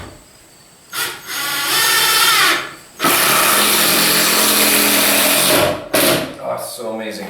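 A power driver whirring as it drives screws in a few loud bursts, stopping and starting close by in a short series of runs of varying length.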